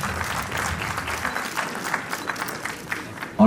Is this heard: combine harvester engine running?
no